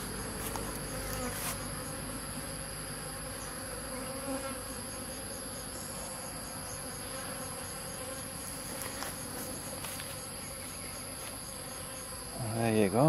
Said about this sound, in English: One bee rescued.